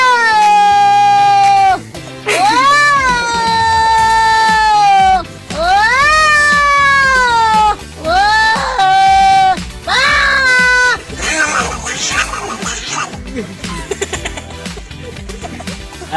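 A man imitating two cats fighting, with loud, drawn-out yowls and rising, falling meows traded back and forth, then breaking into harsher, noisier screeching snarls toward the end.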